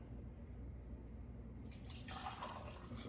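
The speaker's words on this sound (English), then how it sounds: "just put some water in there first" Water is poured into a container with a soft, steady trickle and splash that starts halfway through and runs over a low, constant background hum.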